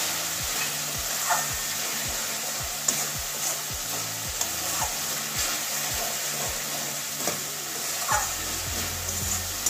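Green peas stir-fried in an oily spice masala in a pan, a steady close sizzle broken by regular scraping strokes of a spatula every half second or so, with no talking.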